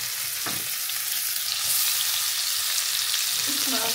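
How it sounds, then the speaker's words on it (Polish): Halved figs sizzle and fry in a pan of butter and olive oil, a steady close crackle with a few stirring scrapes and no talking. "i smażę je na masełku z oliwą"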